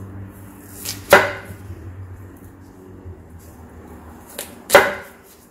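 Knife cutting chayote into bite-sized pieces, two sharp, distinct chops several seconds apart against a quiet kitchen background.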